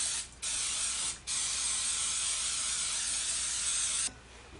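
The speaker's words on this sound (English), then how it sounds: "muffin pan with an oil spray." Bursts of aerosol oil spray hissing steadily onto a muffin pan, interrupted by two brief pauses before the spray stops.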